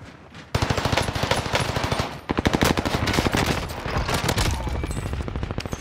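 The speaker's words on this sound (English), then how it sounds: "His buddies are shooting at me." Rapid bursts of automatic gunfire in a video game hammer out loudly and nearly nonstop, dense rhythmic volleys with brief gaps and no speech.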